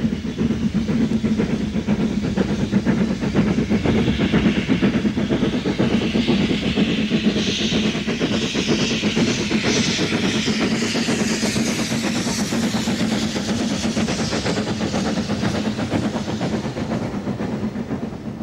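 LMS steam locomotive working on a British Rail main line, a steady loud roar of hiss and rumble with rapid rhythmic chuffing and wheel clatter sustained throughout.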